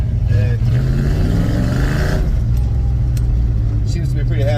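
A 1978 Ford Dentside pickup with an adjusted carburetor and a broken shock rumbles along at a cruise, its low engine drone rising briefly in a rev before settling, with someone talking over it early on.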